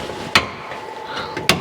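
Hammer blows on the sheet metal of a 1957 Chevy tail pan being beaten down: two sharp, close metallic strikes roughly a second apart, with a couple of fainter taps between them.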